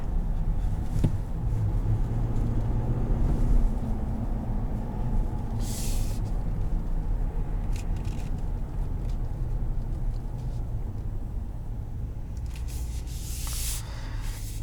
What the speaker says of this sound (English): But this just has that V8 sound.